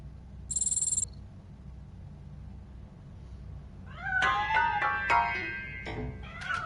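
A cat hidden inside a piano in the video game RoboCop: Rogue City gives a short, sharp meow, then after a quiet pause lets out a series of loud, drawn-out wavering meows and cries close by.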